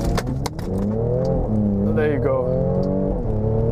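A 2017 Mercedes-AMG C43 engine held on the brake and revved for launch control, a loud, close, steady rising drone with shifting pitch, with someone speaking briefly over it.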